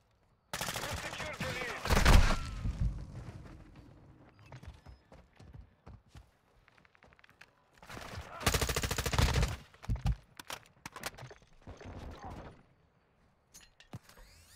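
Enemy gunfire in a Call of Duty deathmatch on the Shoot House map, loud bursts of automatic fire at the start and again midway, with scattered lighter shots and game noise between.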